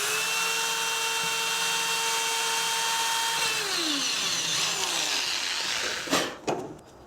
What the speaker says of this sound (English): I have an old-fashioned corded drill, so this is going to be a little loud